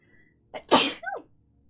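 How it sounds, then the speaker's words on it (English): A single loud, close sneeze, a sharp intake followed by an explosive burst, with no talking over it. "Oh, I gotta sneeze."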